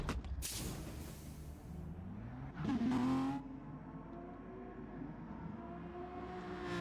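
A Rothmans-liveried Subaru race car pulls out of the pits at an NTCC touring car round, its engine note rising sharply in one brief surge amid steady background track noise and other passing cars.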